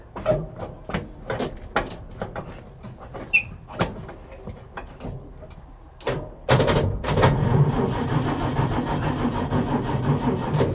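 A 1950s Chevy coupe with a weak battery at a salvage auction lot cranks after the choke is pulled and the gas is pumped: a run of rhythmic clicking turns over, then gives way to a sustained, rough, louder rumble.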